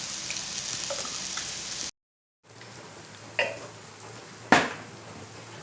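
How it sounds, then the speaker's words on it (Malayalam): Masala sizzling and frying in a pan for a crab curry, a steady hiss broken by a brief pause, then resuming with a couple of sharp clinks of a spoon against the pan. "നന്നായി ഒന്ന് ഫ്രൈ ആയി ഇത് കുഴഞ്ഞ് വരണം"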